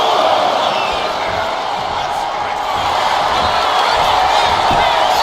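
Wrestling arena crowd roaring and cheering steadily throughout, a dense, loud wash of voices with no clear breaks, swelling slightly as a wrestler rallies the audience.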